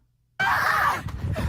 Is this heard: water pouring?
no